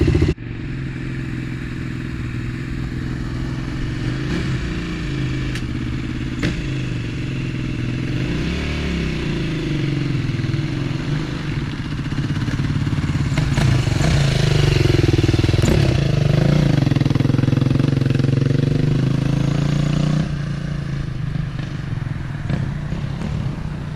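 A 2007 KTM 450 SX-F engine runs while being ridden, a continuous buzzing drone that rises and falls with the throttle and swells louder toward the middle before easing off, with clattering underneath. No one speaks.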